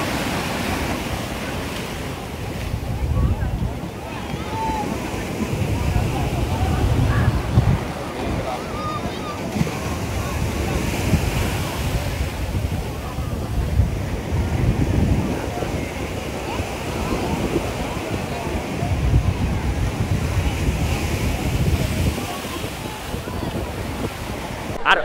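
Sea waves surging at night on Old Digha beach during a full-moon high tide, a continuous rolling wash with swells building and breaking every few seconds, mixed with wind buffeting the microphone and faint crowd murmur.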